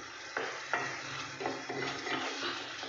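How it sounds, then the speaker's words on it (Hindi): Kalakand mixture stirred with a spoon in a pan over a high-to-medium gas flame, slow scraping strokes recurring every half second or so over a continuous bubbling hiss. "और इस तरीके से हम इसमें प्रॉपर चम्मच चलाएंगे। गैस की फ्लेम हमें हाई टू मीडियम रखनी है"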